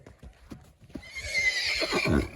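A mare neighs loudly and close, a long whinny over a second or so, with hoofbeats clopping before and beneath it.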